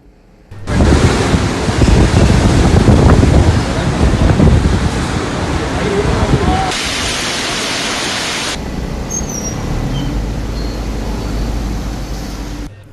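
Strong wind blows during a storm near Colombo, Sri Lanka, a loud roaring gust buffeting the microphone, easing into a steadier, quieter rush after a few seconds.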